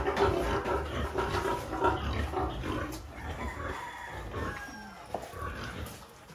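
Free-range farm pigs are fed shredded banana-tree feed, grunting and squealing at close range over a busy, scuffling background, with no talk.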